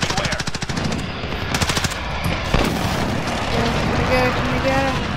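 Loud machine-gun-like rapid fire rattles in a Star Wars shooter video game, followed by booming airstrike explosions and a sustained rumbling blast wash, with a player talking over it.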